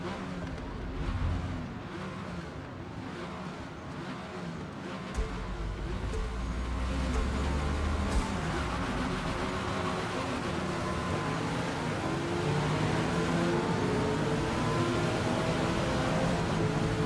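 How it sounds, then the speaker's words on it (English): Loud race cars in a Forza Motorsport field: a continuous, dense engine roar that thickens and grows fuller partway through, with no pauses. "Wow, there are some loud cars in this field."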